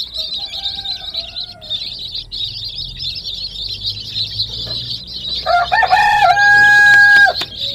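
A flock of chicks keeps up continuous, shrill high peeping, then a louder, drawn-out adult chicken call cuts in near the end.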